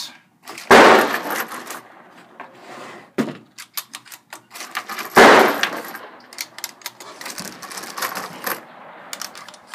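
A Yugoslavian SKS M59/66 rifle fires 122-grain full metal jacket rounds at an outdoor range: two loud, sharp shots a few seconds apart, with clinks, rattles and handling clatter in between.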